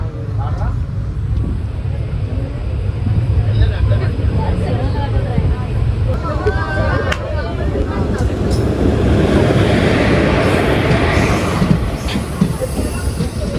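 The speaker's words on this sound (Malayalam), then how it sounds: "Mangaluru central Kanyakumari Parasuram express വരുന്നുണ്ടേ" The Mangaluru Central–Kanyakumari Parasuram Express, hauled by a Vijayawada WAP4 locomotive with advert-covered coaches, approaches as a loud, broad rumble swelling steadily with wind buffeting, while a voice speaks briefly over it.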